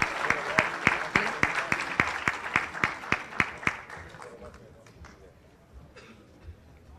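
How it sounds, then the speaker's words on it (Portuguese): An indoor panel audience at a conservatism conference gives a round of applause in tribute to the late ambassador Meira Pena, the clapping falling into a brisk, steady rhythm before thinning out and fading as murmuring voices carry on underneath. "uma salva de palmas em homenagem aí à vida, né, do embaixador Meira Pena"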